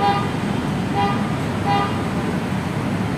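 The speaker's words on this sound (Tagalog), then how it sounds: "medyo maingay dito sa Ramon Magsaysay Boulevard" Steady traffic roars along Ramon Magsaysay Boulevard, a continuous wash of road noise with a few short horn toots sounding at intervals, and no talk over it.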